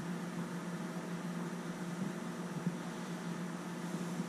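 A microwave oven runs while melting marshmallows, giving a steady, faint, low mechanical hum with a fan-like whir and no other sounds.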